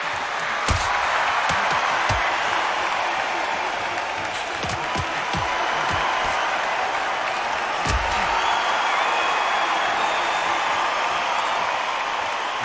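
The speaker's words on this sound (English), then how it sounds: "Really good buzz in the air tonight. This crowd waiting for something special." Steady crowd buzz fills a boxing arena in the Undisputed video game, a continuous murmur of spectators with scattered sharp claps and thuds breaking through, loud and even throughout.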